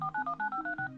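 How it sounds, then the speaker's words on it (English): A rapid string of telephone touch-tone dialing beeps, about eight short evenly spaced dual-tone pulses in quick succession, clean and close with no talk. "And they use robo-dialers, dialing hundreds of times a day"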